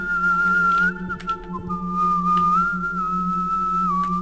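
Steady whistling in the stealth game Thief: The Dark Project, a sustained wavering tone heard alone over a low ambient hum and occasional soft clicks.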